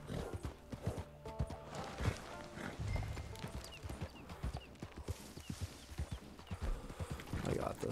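Horse hooves clip-clop in irregular quick beats in the video game Red Dead Redemption 2, with occasional whinnies and other game noise, fairly faint, and a voice talks over them at times.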